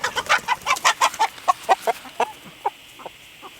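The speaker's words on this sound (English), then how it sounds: "Rooster fight." Roosters clucking and squawking in a fight, a rapid loud burst of harsh clucks that thins into scattered, quieter calls, close by in an outdoor yard.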